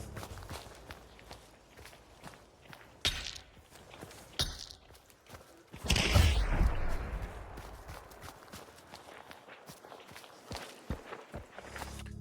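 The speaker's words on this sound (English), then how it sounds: "So it's possible you do hear two sets of footsteps here." Footsteps in the video game Hunt: Showdown, irregular thuds and scuffs at varying distance, with a couple of louder impacts and a rustling surge partway through, fairly quiet overall.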